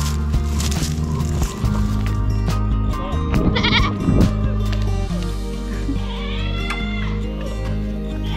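Goats on a homestead bleat near and far among farm clatter, several wavering cries overlapping in the middle of the stretch, with a few short bumps and knocks around them.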